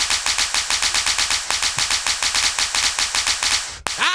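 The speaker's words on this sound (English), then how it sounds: "All those firecrackers going off." A rapid, relentless string of sharp pops crackles loudly like a long chain of firecrackers, ending in a single louder bang.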